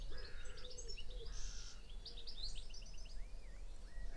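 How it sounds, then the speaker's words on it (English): A dawn chorus of crows and assorted birds chirping and whistling, with wood pigeon coos and calls overlapping at moderate distance against a low background rumble. "and a few crows and various other birds."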